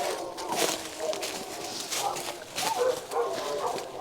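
Neighbourhood dogs bark outdoors near a freshly cleared yard, scattered yips and barks at a distance, mixed with background noise and some talk.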